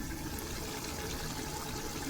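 Water being poured into a pot of chicken being sautéed for biryani, a steady continuous splashing pour close by with no talk.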